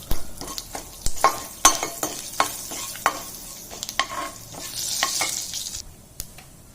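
Chana dal and urad dal fry in a hot pan, a soft sizzle broken by repeated sharp scrapes and taps of a spoon being stirred through the lentils.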